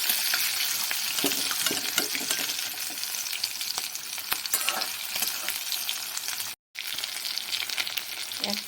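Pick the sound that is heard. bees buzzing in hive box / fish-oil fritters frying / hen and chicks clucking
fish-oil fritters frying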